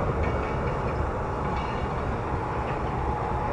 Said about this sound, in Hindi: ये रही नाइन अप इलामाबाद एक्सप्रेस